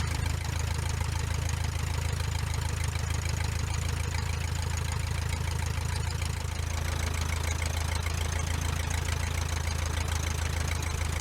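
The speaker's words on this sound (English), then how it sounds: "Alright, so run up is all I have left to do." A Luscombe light airplane's piston engine drones steadily through its pre-departure run-up, a loud, close, unbroken buzzing roar heard alone without talk.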